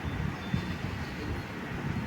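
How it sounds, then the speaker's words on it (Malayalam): Train approaching a village railway station in Kerala at dusk: a low, steady rumble of rolling wheels, fairly quiet and distant, with a thin high squeal and wind noise, and no voices. "ഇപ്പോൾ വരും ട്രെയിൻ."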